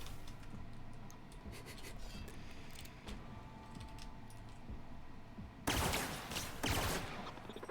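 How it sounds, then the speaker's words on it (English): Sharp gunshot clicks and clatter in The Outer Worlds video game, a shot striking a wall close by, followed near the end by a louder burst of impacts, with no talking. "I somehow managed to shoot the wall in front of me"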